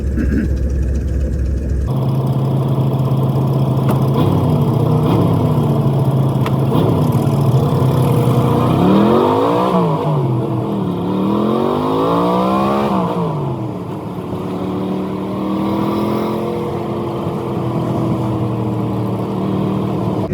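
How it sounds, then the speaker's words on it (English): A 1963 Ford F250 truck with dual exhaust pipes drives along, its engine rumbling loud and near, rising and falling in pitch as it revs up and shifts, then settling into a steadier drone. "You can't be driving one of these old classic trucks without a good set of dual pipes."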